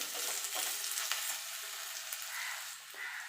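Split jujubes stirred briefly in hot oil for a sweet-sour pickle, giving a steady close sizzle with soft scraping stirs throughout and no talking.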